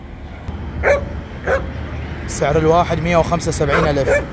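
Small French terrier dogs yip and bark in short bursts nearby while someone talks over them, at a plant nursery street in Baghdad's Adhamiya district.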